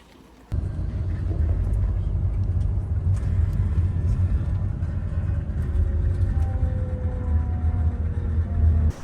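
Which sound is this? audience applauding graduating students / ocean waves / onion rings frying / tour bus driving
tour bus driving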